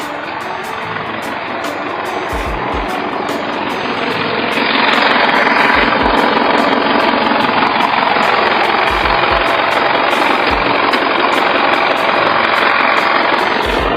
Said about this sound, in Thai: ฟังเสียงเครื่องครับ